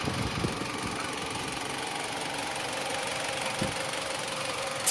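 A car engine idles under an open hood in a steady, close, mid-pitched rumble with a faint rhythmic knock, running alone without any talk.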